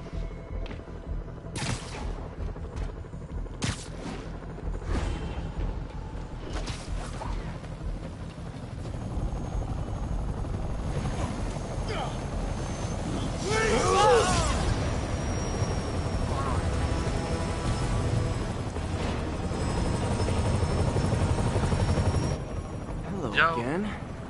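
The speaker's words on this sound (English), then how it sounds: "this is kind of the epic helicopter scene that everyone talks about" Helicopter chase from the video game Marvel's Spider-Man: a steady rotor and engine drone with bursts of gunfire and impacts, growing louder and busier midway, with a voice talking over the action.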